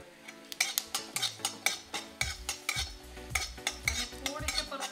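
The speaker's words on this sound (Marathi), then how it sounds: "आता आपण यात धने टाकून घेऊ" Coriander seeds being dry-roasted and stirred in a pan over a gas stove for a rural-style brinjal masala, with repeated sharp scraping and clinking strokes of a spoon against the metal, close and fairly loud, no talking.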